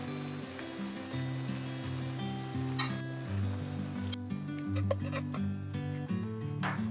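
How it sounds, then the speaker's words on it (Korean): Garlic sizzling and frying in a pan for butter garlic shrimp, with a steady close sizzle and occasional stirring scrapes, no talk. "새우를 담고 마늘은 조금 더 볶아줄 거예요."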